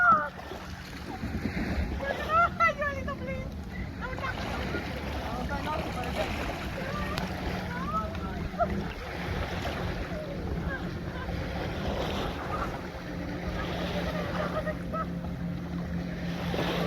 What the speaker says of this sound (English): The boat ride, now the jet ski ride.